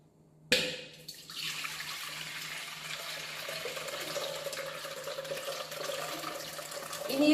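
Water gushes suddenly from a tap into a mixer jar to rinse freshly churned butter, settling into a steady close splashing rush that swells slightly at the end.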